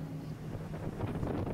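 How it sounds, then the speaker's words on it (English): Wind gusts over open water among the Thousand Islands in Ontario, heard as a steady low rumble of microphone buffeting with no talk. "It's windy, of course."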